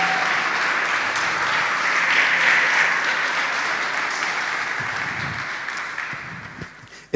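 A congregation claps during a church sermon: a dense, sustained round of applause from many people at a steady volume, tapering off toward the end with a few scattered claps.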